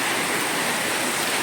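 Steady, dense rain hisses loud and close as an even, unbroken wash with no gaps or distinct drops standing out. No voices are heard.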